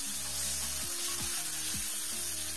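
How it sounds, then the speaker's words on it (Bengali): Tomatoes frying in a pan for a restaurant-style mixed vegetable curry gravy, with a steady close sizzle and a few scraping stirs of a spatula against the pan. "তো দিয়ে দিয়েছি টমেটো, টমেটো দিয়ে আরও কিছুক্ষণ ভালো করে ফ্রাই করে নেব।"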